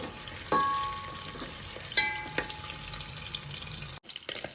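Mutton fat frying in oil in a pan makes a faint continuous sizzle broken by a couple of sharp utensil knocks, close and quiet, with a brief cut near the end.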